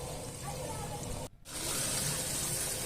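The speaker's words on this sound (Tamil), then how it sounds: "இப்போ தேவையான அளவு ஊற்றியாச்சு" Water poured into a pot of vegetable biryani, a steady close splashing stream broken by one brief gap partway through, with a voice talking faintly underneath.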